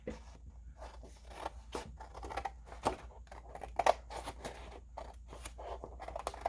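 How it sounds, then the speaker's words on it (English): Scissors cutting paper tags made from a busy masterboard, a faint, close series of irregular snips and slicing crunches in a quiet room, with no voices. "Should I keep gluing or should I start cutting? Let's start cutting."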